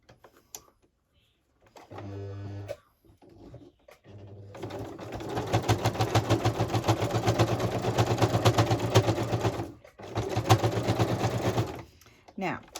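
A sewing machine stitches down a small paper Easter journal, starting with short whirring bursts and then running steadily in a fast rattling hum for several seconds before stopping and giving a few brief final bursts, up close.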